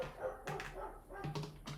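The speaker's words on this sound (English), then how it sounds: "With the dog barking outside." A dog barks several times outside in short bursts, somewhat muffled and distant, with quiet room tone between the barks.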